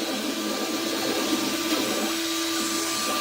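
An X-Carve CNC machine with a 1,000 by 1,000 mm bed carves a wooden plaque on a plywood table, giving a loud, steady whine with a constant tonal hum and no talking.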